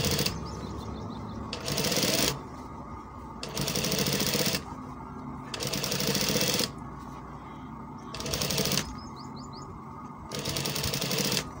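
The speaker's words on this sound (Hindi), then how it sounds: "ये जल्दी जल्दी से मैं सिलाई लगा देता हूँ।" Sewing machine stitching a kameez, running in repeated bursts of about a second, loud and close, separated by short pauses with faint handling sounds.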